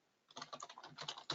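Fingers type a short search word on a computer keyboard, a quick burst of close, soft key clicks after a brief silence.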